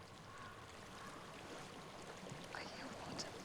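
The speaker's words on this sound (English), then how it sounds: "I hear water." Faint, steady water flows and laps somewhere nearby in Hellblade: Senua's Sacrifice, a soft continuous wash with small splashing textures and no voices.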